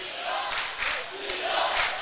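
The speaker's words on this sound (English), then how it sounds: "you can hear the crowd into it immediately in this tense intra-city rivalry game" A high school boys basketball crowd at an intra-city rivalry game between Abilene High and Wylie roars in a sustained, loud wash of cheering and shouting, swelling in waves.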